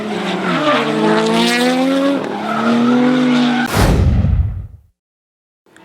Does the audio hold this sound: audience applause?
no